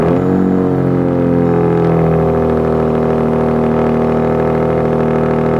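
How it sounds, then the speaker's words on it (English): A 2026 Ram RHO truck engine with a new aftermarket exhaust fires up and settles into a loud, steady rumbling idle, heard close with a deep, continuous drone throughout. "see how this exhaust sounds compared to the factory"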